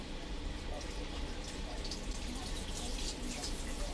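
Water running from an RV shower, a steady broadband hiss and splash that continues evenly throughout, fairly quiet and heard alone.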